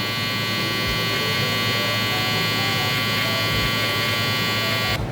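Electric hair trimmer buzzing steadily while cutting a low taper fade, a constant close-up electric hum and whine with no breaks, no talking over it.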